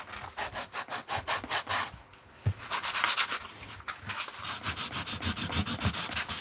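Sandpaper rubbed over paper edges in quick back-and-forth strokes, close and scratchy, with a brief pause near the middle before the rhythmic rasping resumes.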